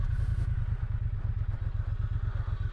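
A Triumph 1200 Bobber motorcycle engine runs with a deep, loping low-end thump, its steady pulsing beat loud and close with no one talking.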